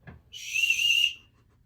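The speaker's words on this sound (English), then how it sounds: "the Oscar Mayer Wienermobile, and it's a whistle" A small Oscar Mayer Wienermobile novelty whistle gives one short, shrill blast lasting under a second, close and fairly loud, following a faint soft bump.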